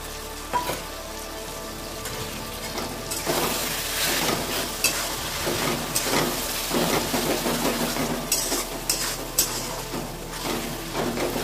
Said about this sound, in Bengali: মশলাটা কষিয়ে নিই ভালো করে।